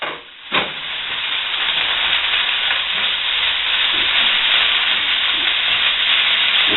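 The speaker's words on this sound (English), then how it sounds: "I'm adding the tuna straight into the pan." Drained, still-damp tuna dropped into a very hot pan for Cajun po'boy pasties, a sharp burst followed by a loud, steady hissing sizzle that spits and crackles continuously, close up with no talk.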